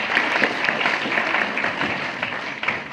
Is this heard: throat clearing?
no